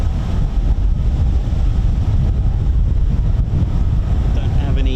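Strong wind roars and buffets the microphone at an RAF airfield, a constant low rumble filling the whole stretch with no break and no voices.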